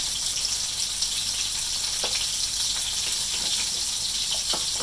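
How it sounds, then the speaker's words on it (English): Steady, close sizzling of pancetta frying in butter in a hot skillet, a continuous hiss with occasional pops and crackles, no voices. "we got the butter all sizzling, so I'm going to add some pancetta"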